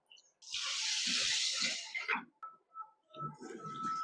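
Water gushes and splashes for a couple of seconds as rice is rinsed, followed by quieter trickling and gentle sloshing sounds up close.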